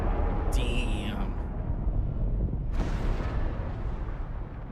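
Booming video game gunfire and explosive blasts rumble in the desert battles of Dune: Awakening, with a couple of sharp bursts rising over a steady low roar and faint background speech.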